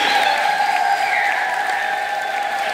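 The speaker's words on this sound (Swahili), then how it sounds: "Naomba tumshukuru Mungu kwa makofi na vigelegele kwa Dominika hii" A Catholic congregation at Sunday Mass on the fourth Sunday of Lent breaks into sustained applause, with high, wavering ululation ringing through the dense, steady clapping.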